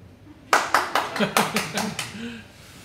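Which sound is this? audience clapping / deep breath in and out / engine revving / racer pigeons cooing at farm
audience clapping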